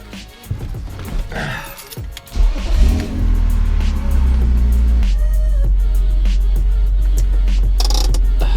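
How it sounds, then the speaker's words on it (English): A BMW E36 M3 is started and driven out of a garage, with clunks and shuffling at first, then the engine catches and settles into a loud, steady low idle that holds close by. "the first thing that we have to do is pull the car out of the garage"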